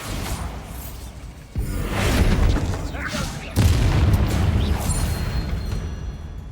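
A Bombarda spell explosion in the video game Hogwarts Legacy: two heavy booming blasts, the second louder, each followed by a rumbling roar that lingers rather than cutting off.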